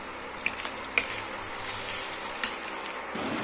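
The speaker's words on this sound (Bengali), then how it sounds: "মশলাটাকে 7-8 মিনিট কষিয়ে নেব।" Spice paste with ground turmeric, cumin, coriander and chilli powders sautéing in a pan, a continuous soft hiss with a few sharp spatula clicks against the pan, fairly quiet and steady.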